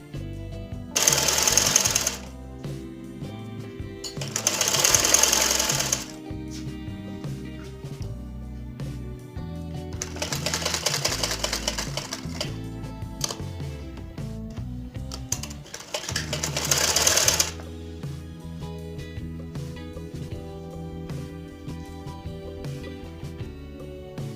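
Sewing machine stitching cloth in a tailoring setting, a rapid mechanical rattle running in several loud bursts of a second or two between quieter whirring, close by with no talk.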